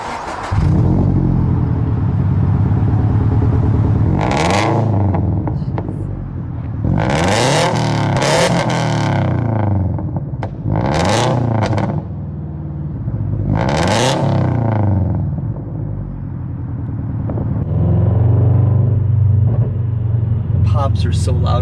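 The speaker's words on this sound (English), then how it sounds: "We'll get some exhaust clips from inside the car and some revs from outside the car right now." Subaru BRZ fitted with a new front pipe and over pipe, its exhaust revving in repeated loud bursts with a deep rumble between them, rising and falling several times.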